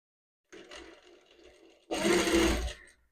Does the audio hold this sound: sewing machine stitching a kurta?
yes